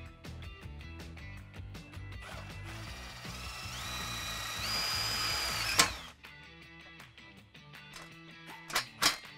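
A power drill whirs steadily and rises in pitch as it drives a screw while installing a post and top rail, then cuts off, followed by a few sharp clicks and clatters nearby.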